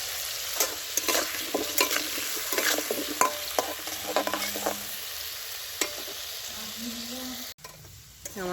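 Potatoes fry in oil in a pan over a clay stove, a steady soft sizzle broken by scraping stirs and light utensil knocks, close by.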